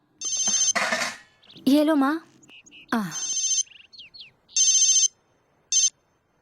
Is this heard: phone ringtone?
yes